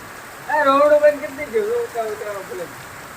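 Heavy morning downpour pours down in a steady, broad hiss, with someone talking loudly over it for most of the moment.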